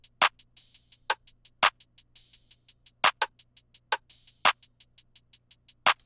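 A rage-beat drum loop plays hi-hats, claps, a perc and two open hats together: quick steady ticks, punctuated by sharp claps and two longer, hissy open-hat washes, with no talking.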